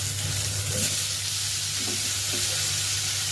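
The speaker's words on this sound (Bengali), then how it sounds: "এটা পেঁয়াজটা একটু লাল লাল হয়ে এসছে। এরপর আমি আলুগুলো দিয়ে দেবো।" Onions sizzle and fry in a pan ahead of the potatoes for a Bengali dish, giving a steady, close hiss with a few faint stirring scrapes.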